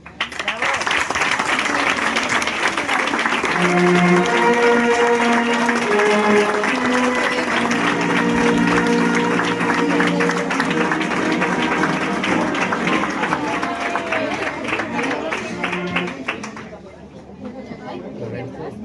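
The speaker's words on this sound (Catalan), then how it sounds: "Acomiadem amb un fort aplaudiment a Ivan i a Míriam." Loud, sustained audience applause at a Catalan ceremony presenting artists' sketches, with crowd chatter mixed in and a brief musical tone early on, the clapping holding steady before tapering off near the end.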